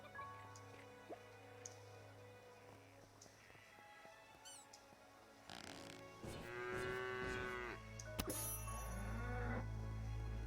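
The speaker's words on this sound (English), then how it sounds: "I always know there's some cows over here" Quiet game-like background tones in Craftopia, then a cow's long low moo near the middle, with squishy effects and a steady hum afterward.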